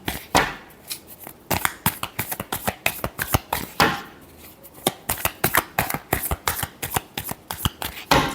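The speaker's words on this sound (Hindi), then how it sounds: "Last shuffle." Tarot cards are shuffled by hand in quick rapid riffles and snaps, close and fairly loud, with no talk over it.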